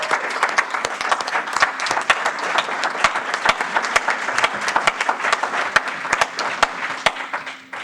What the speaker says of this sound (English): now we can clap